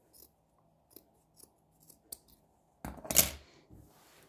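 Scissors snip fabric off the side of a skirt being altered, a few sparse close cuts followed by one louder, longer crunching cut near the end.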